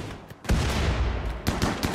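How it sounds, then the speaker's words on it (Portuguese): Several bursts of gunfire from the RimWorld video game crack out in fairly quick succession. The shots are moderately loud and come with no speech over them. "O Marcos tá atirando."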